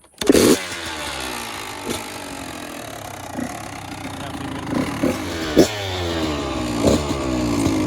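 A motocross dirt bike's engine is kicked over several times without choke, giving irregular sharp mechanical thumps and brief sputters over a steady background drone, close by.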